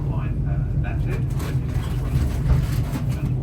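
GWR train pulling into a station platform, a low steady rumble of the moving carriages with faint squeals and rattles on top, a voice talking over it throughout.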